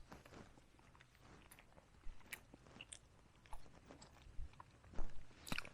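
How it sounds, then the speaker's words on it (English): Someone outdoors on a hill trail chews a sandwich of Warburton's white bread with butter, sriracha, cucumber and spinach, making close, soft crunching bites and wet chewing over quiet open-air background. "Some good eating."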